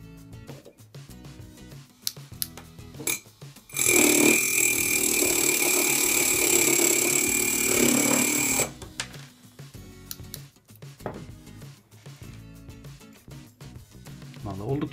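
A hobby drill fitted with a cutter made from a bottle cap bites into a wooden pencil, giving a loud, steady whirring grind for about five seconds, with quieter handling noises before and after.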